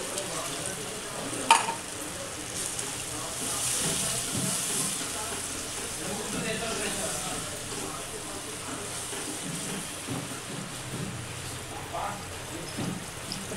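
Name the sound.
water poured into frying masala, sizzling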